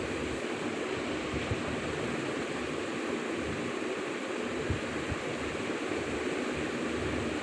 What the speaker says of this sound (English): With the addition of water, it mixes with that water, and this Wilfley table is going to get vibrating.